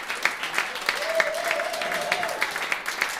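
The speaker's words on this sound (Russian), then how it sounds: "Вам ваши аплодисменты вам, друзья." A concert audience applauds a string quartet with fairly faint, even clapping from a hall throughout, and a voice is briefly heard over it.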